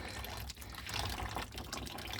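Leftover water running and trickling out of a disconnected home radiator during renovation demolition, a close, soft splashing flow with small irregular surges.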